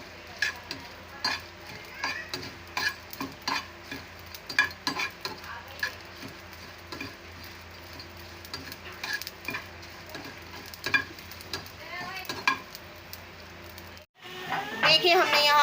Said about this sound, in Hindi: अब हम इसमें ज़ीरा शामिल करेंगे और हमने इसको भून लेना है,